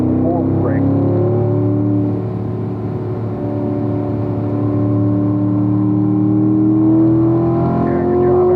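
A Corvette engine on a race track, droning loudly and steadily, dips briefly in pitch and level around a shift under braking, then climbs again as it builds speed.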